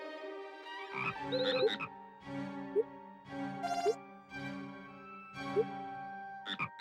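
A game frog in Harvest Moon: Animal Parade gives repeated croaks, several warbling musical calls spaced about a second apart, each ending with a brief rising squeak.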